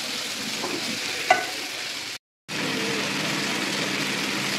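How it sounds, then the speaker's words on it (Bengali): Potato and meat fry in a pan with a steady, loud sizzle and occasional scrapes from stirring. The sizzle cuts out briefly partway through, then resumes. "একটু দেখেন, একটু ফ্রাই করতেছি।"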